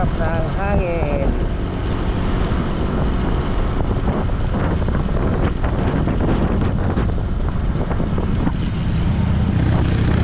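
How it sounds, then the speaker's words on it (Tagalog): Strong wind buffets the microphone steadily throughout a road ride, a loud continuous roar with brief tonal squeaks near the start and a voice underneath. "Lakas ng hangin."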